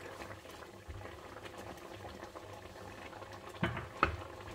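Fish curry bubbling in a pot over a medium flame, a soft, quiet simmer with faint irregular pops and a couple of louder bubbles near the end.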